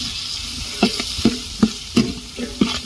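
Ginger and whole garlic sautéing in a large pot of fish curry for two hundred people, a soft sizzle under a steady rhythm of about six sharp scraping knocks of a ladle against the pot.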